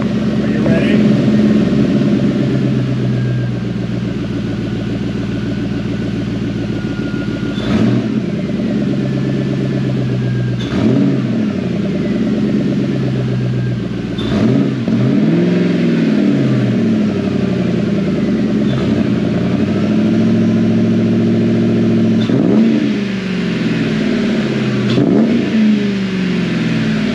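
A Ford Mustang GT 4.6 with a Cobra cat-back exhaust idles with a throaty burble and is blipped again and again, each rev swelling sharply and falling back, loud and close, with a few words spoken between revs.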